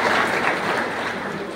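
A crowd at a public development event applauds for minister Dada Bhuse, a dense, fairly loud wash of clapping held steady throughout.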